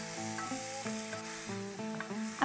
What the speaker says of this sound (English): just saute this for a couple of minutes